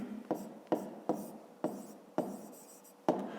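A pen writes by hand on paper, working through a fifth-grade math exercise: about six distinct strokes in an irregular rhythm, close and quiet, with no voices.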